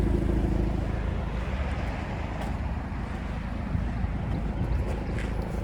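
Exhaust of a 2023 Maserati Grecale Modena with a 2-liter turbo four-cylinder, a steady, fairly loud low rumble that holds even for several seconds with no voices over it.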